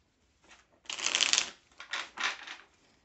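Belline oracle cards being shuffled by hand, a burst of riffling and sliding card noise in several short runs, close and clear with no talk.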